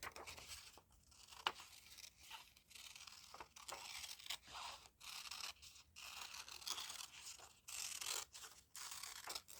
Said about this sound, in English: I'm just going to do a curvy cut